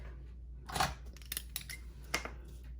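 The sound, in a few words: trimming ribbon tails on a card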